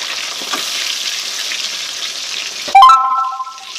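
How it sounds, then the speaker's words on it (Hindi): Fish fries in hot mustard oil with a loud, close, steady sizzle. Near the end a sharp clatter and a ringing metallic tone cut in, and the sizzle quiets afterward. "देखिए, सरसों का तेल गर्म हो चुका है। देखिए, मछली एक तरफ पक चुका है,"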